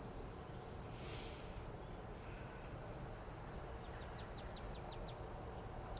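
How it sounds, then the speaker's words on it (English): A cricket chirps in a steady, high, continuous trill, with a few faint bird chirps and tweets scattered in the background. "There is a cricket chirping, some birds tweeting, twiddling, whatever it is birds do."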